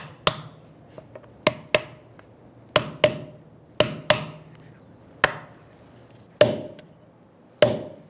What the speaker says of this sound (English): I'm going to use a brass punch and tap it around